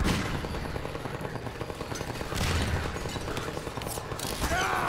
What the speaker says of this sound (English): That guy's got a gun.